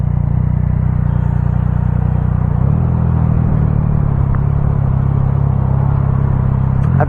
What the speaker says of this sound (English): There's a lot of traffic here.